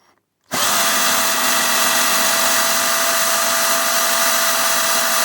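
A power tool bores neat holes in the circuit board of a Marshall TSL/DSL amplifier, a loud steady high whine that starts abruptly after a brief quiet moment and runs unbroken to the end.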